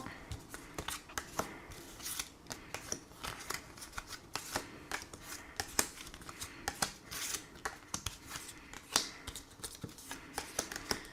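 Tarot cards being handled and shuffled for a draw of thirteen cards: a long run of quick, crisp riffling and flicking, close and soft, with brief pauses between bursts and no talking.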